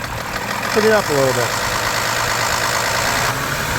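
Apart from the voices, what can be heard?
2010 BMW 328i xDrive engine revved to higher RPM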